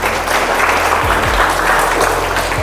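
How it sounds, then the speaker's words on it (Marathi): A quiz show audience in Baramati bursts into loud applause for a contestant before the next question. The clapping is close and vigorous, a thick continuous roar of many hands with no pause through the brief stretch. "सरांसाठीच आपण या प्रश्नासाठी एकदा सरांसाठी जोरदार टाळ्या झाल्या पाहिजे."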